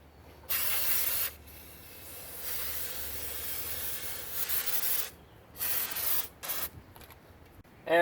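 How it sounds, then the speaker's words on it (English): Aerosol brake parts cleaner sprayed onto a brake caliper of a 1994 Ford Ranger, several loud, close hissing bursts of varying length with short breaks between them, no talking. "I got some brake parts cleaner, and now I'm just gonna spritz all of this"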